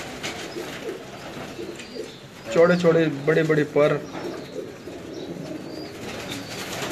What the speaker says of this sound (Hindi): ये देखें जी, सियालकोटी कबूतरों का एक हसीन इम्तिजाज है